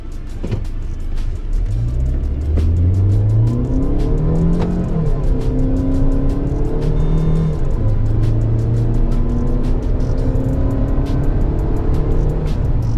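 A Tata petrol SUV, Harrier or Safari, accelerating from 0 to 100 in city drive mode with the AC on and two people aboard. The engine note climbs through several rising gear pulls, loud and close from inside the cabin.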